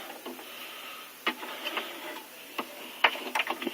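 A sewing machine gives a few quiet, scattered mechanical clicks and clunks as its bobbin is put back in and the presser foot is lowered, with no talking.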